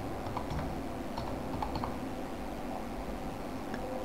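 Someone types a search on a computer keyboard: a quick, irregular run of soft key clicks over a faint steady hiss, close and fairly quiet, with no voices.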